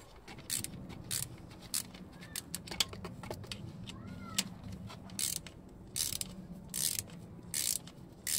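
Screws being backed out of a clutch slave cylinder on a Peugeot Citroën car, heard as close, irregular metallic clicks and ratcheting bursts scattered across the clip over faint background noise, with no speech.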